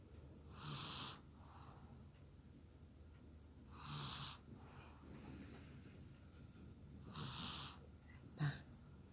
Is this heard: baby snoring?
yes